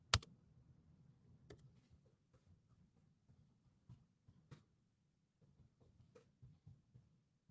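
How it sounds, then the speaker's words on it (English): Soft, scattered key clicks tapping away at a keyboard, with occasional sharper taps, quiet and close, no voices. "Oops, I'm typing away."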